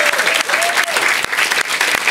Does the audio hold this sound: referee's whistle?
no